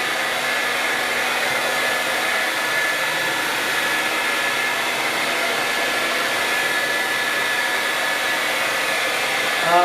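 A hair dryer blows steadily at close range on an epoxy countertop, a constant whooshing hum with no pauses.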